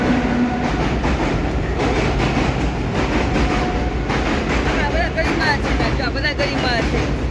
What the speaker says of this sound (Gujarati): જો ટ્રેન જાય છે, જો તમે જોઈ શકો છો.